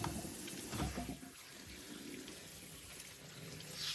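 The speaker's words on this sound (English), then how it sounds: "Wash the quail eggs under running water." Boiled quail eggs rinsed under a running kitchen tap, a steady moderate wash of flowing water with light splashing that continues throughout.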